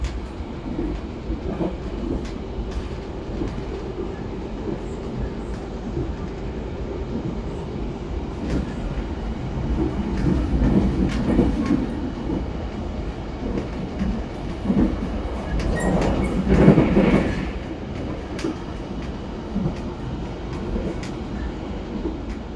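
The Turangga panoramic passenger train from Surabaya to Bandung rolls along the rails at night with a steady rumble and occasional clicks and rattles, swelling louder for a stretch before settling again.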